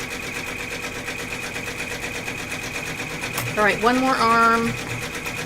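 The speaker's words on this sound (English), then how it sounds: "And the face is still stitching. Can you see it? Can you see the machine and what it's stitching" Embroidery machine stitching a design, a steady close mechanical whir with fast rhythmic needle pulses running throughout, while someone speaks briefly over it.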